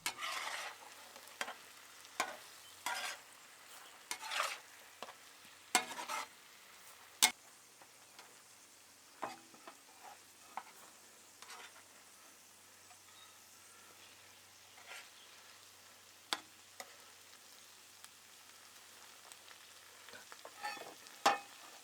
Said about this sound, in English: Gives you plenty of room to stir things around gently.